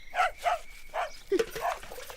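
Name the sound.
dog barking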